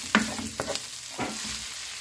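Garlic and onion sizzle in a frying pan as a utensil stirs them, giving a few quick scraping strokes over a steady crackle, close and moderately loud, with no voices.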